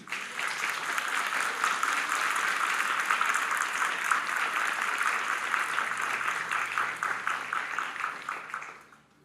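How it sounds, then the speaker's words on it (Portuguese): Steady applause from a crowd, sustained for several seconds before tapering off at the end. "Você pode aplaudir Jesus?"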